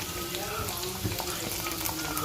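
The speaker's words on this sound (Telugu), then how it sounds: "అలాగే కొంచెం వెల్లుల్లిపాయ రెబ్బలు కూడా వేసుకొని ఫ్రై చేసుకోవాలి." Garlic cloves frying in a pan give a dense, steady sizzle, with brief stirring clatters close by and no speech over them.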